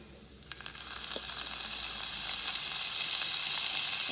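Fifteen ounces of tomato sauce hit a hot pan holding garlic for ground beef tacos, giving a sudden loud sizzle that swells into a steady, hissing fry.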